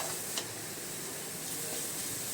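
A soft, steady sizzle of spice puree frying in oil, with faint stirring scrapes and a small click near the start, quiet and close.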